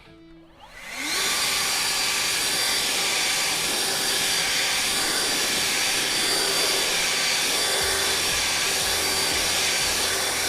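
Leaf blower clearing grass clippings off a freshly edged lawn: the motor spins up sharply and then roars as a loud, steady hiss of rushing air close by, continuing unbroken with a faint low thumping late on.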